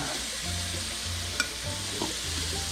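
Potatoes frying in butter in a pan, a steady broadband sizzle with scattered clicks and a brief sharp tap of a utensil, no talking.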